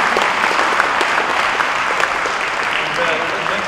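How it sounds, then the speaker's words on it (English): Applause rises from the audience at a STEM conference, a dense, steady clatter of many hands clapping together at close range that stays loud throughout. "a big round of applause, please."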